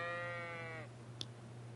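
A sheep bleats in Kingdom Come: Deliverance II, one drawn-out nasal call lasting under a second, followed by a short faint click over a steady low background hum.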